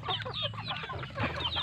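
Rhode Island Red chicken clucking inside a coop, close and moderately loud, a quick run of soft overlapping clucks and murmuring calls over about two seconds.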